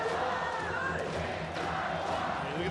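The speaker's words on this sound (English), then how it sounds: "for these fans here in Taiwan," A large crowd of baseball fans in Taiwan at a World Baseball Classic game between Chinese Taipei and the Netherlands roars and cheers continuously, with a commentator talking over the dense stadium noise.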